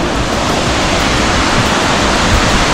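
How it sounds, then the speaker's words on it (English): A roadside waterfall in Iceland pours in a loud, steady roar of broadband rushing water, close and constant with no breaks or voices. "Quick waterfall stop on the side of the road."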